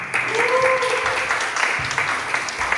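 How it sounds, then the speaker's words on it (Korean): Applause from a church high school youth service congregation for a student's birthday, a short steady patter of clapping with a faint tonal sound running through it. "박수 한번"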